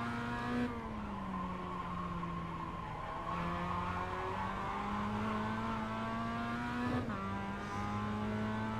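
Mazda MX5 race car in iRacing at Winton Raceway club circuit, engine held on full throttle with a steady rising drone, pitch climbing through gears with brief shift dips, tires faintly squealing, no talk.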